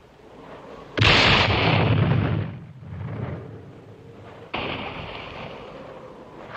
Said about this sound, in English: Our mortar has hit their mines.